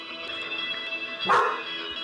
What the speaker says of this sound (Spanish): mi perro está ladrando mucho